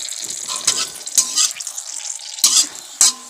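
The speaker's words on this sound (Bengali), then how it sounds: "শুকনো লঙ্কাটা ভেজে নিচ্ছি।" Dried red chilies frying in oil that is too hot, a steady close sizzle broken by a few sharper bursts of stirring scrapes.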